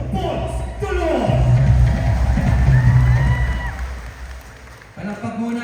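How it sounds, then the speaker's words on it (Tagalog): A crowd at a provincial event in Oriental Mindoro claps and cheers, with broadband applause swelling and holding loudly through the middle, a few whoops rising above it, and an amplified voice speaking briefly at the start and end. "Palakpakan po natin sila mga kaibigan."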